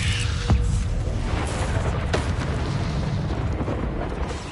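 A roaring, rumbling burst of fire from an Incendio spell in Hogwarts Legacy, loud and sustained with a few sharp pops and crackles through its length.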